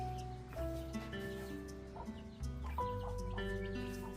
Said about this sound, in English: chickens up here. Oh, yeah, and baby ones too.